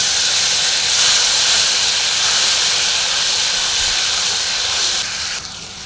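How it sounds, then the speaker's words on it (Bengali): Loud, continuous hiss of ginger garlic paste frying in hot oil, steady throughout and easing off slightly in the final second. "আদা রসুনটাকেও একটু ভেজে নিচ্ছি"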